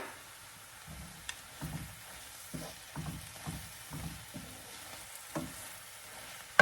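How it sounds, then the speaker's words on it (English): Fresh spinach and cilantro wilting in a hot pan, a low steady sizzle broken by repeated soft stirring thumps and scrapes at an even pace, close by. "So I'm just going to add it while the spinach is wilting."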